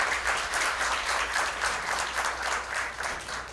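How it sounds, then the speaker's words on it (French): Audience applause for a high school team at a televised quiz match, a dense steady burst of many clapping hands that stays loud throughout. "on applaudit le lycée Cyber."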